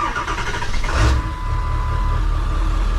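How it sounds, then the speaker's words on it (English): A Ford 7.3 Powerstroke diesel truck engine cranks and fires up near the microphone, then settles into a steady, loud idle that runs alone without talk. "we're gonna go ahead and fire our truck up"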